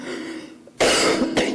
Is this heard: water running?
no